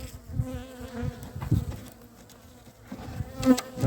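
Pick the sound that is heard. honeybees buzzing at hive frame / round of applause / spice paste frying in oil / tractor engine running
honeybees buzzing at hive frame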